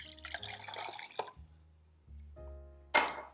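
A cup of water poured into a blender or bowl for a vegan cashew-based biscuit batter, giving a short bright splash and dripping amid light clinks, followed by a sharper splash near the end.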